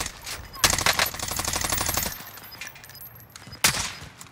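Rapid automatic gunfire in a shooter video game, a fast rattling burst that runs about a second and a half, then quieter background, then another sharp short burst near the end, with faint voices underneath.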